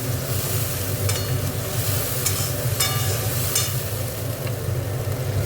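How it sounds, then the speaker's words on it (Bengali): Masala spice paste with turmeric being stir-fried in a pan, a steady close sizzle and frying hiss with occasional sharp scraping strokes of a spatula against the pan. "এবার মশলাটা একটু ভালো করে কষে নেব"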